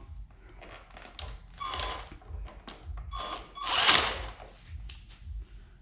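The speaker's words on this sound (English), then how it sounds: "I'm just gonna tighten it a little bit so it won't move around whenever I try to get that top bolt back on" A power tool tightens a Zuma shock absorber bolt on a Honda Navi scooter in a few short, close whirring bursts between quieter workshop handling noises.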